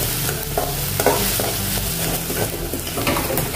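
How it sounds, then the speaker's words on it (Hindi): Ginger garlic paste frying in a pan for chole masala, a steady loud sizzle with repeated scraping stirs, no talking. "अभी अदरक लहसुन को हमने भून लिया है।"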